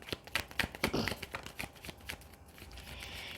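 Tarot cards being handled and shuffled close by, a quick run of soft papery flicks and slaps, then quieter rustling, with no talk.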